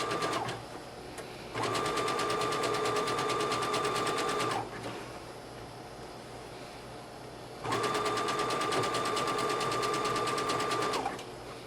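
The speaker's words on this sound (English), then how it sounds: "we're going to either use a zigzag stitch or a serger. In our case, of course, a zigzag stitch." A sewing machine runs a zigzag stitch along the edge of fabric for a dress, two steady sustained bursts of rapid mechanical whirring with a pause between, close and loud.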